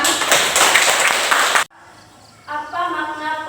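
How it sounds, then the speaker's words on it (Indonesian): Classroom students clap together for a group presentation in a Catholic religious education class, dense applause filling the room for over a second before cutting off abruptly, followed by quiet and then a voice. "Mari kita tepuk tangan."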